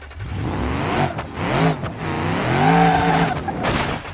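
The Bruckell Moonhawk drag car in BeamNG accelerates with a loud, rising engine wail and brief tire skids, its pitch climbing and dropping across several quick gear changes.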